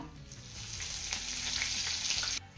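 Mustard seeds, cumin, asafoetida and curry leaves fry in hot oil as a tempering for a bottle gourd dish, giving a close, steady sizzling hiss with faint crackles that cuts off abruptly near the end, and no talking.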